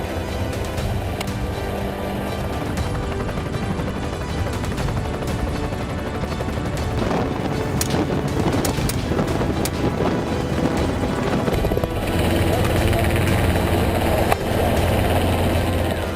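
A helicopter used for aerial hunting of predators in grassland gives a continuous loud rotor roar, heavily buffeted by wind, with occasional sharp cracks cutting through.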